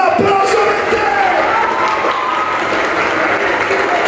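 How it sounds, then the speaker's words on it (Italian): Applause and cheering from a crowd welcoming a fan brought on stage for her birthday surprise, a steady loud wash of clapping throughout with voices mixed in. "Vieni Carlita, l'applauso per te!"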